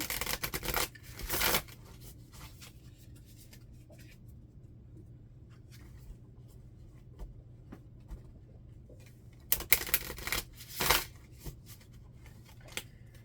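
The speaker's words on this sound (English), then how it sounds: "I know I'm shuffling these" Tarot cards are shuffled in short riffling bursts near the start and again later, with quiet handling and a low background rumble in between.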